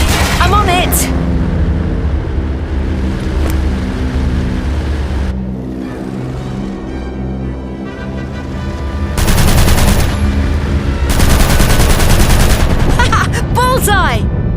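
Gunfire from the video game Aviators, with dense bursts of automatic fire running loud and continuous over a rumbling engine-like drone, peaking in sharp rapid volleys near the end, with voices talking over the action.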